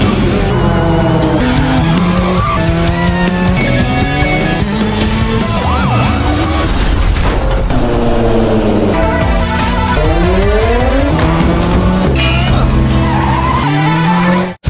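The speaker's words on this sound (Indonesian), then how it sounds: "Sahir dan Samar kabur menggunakan motor dan scene epik pengejaran terjadi" Loud, continuous motorcycle chase from an Indian action film: tires skid and squeal and engines roar throughout, densely layered with dramatic score, ending abruptly.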